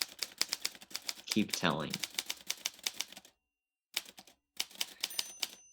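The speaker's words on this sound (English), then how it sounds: "The writer moves to a typewriter." A typewriter clatters in rapid, rhythmic keystrokes close by, stopping briefly before resuming, with a person speaking over the typing early on.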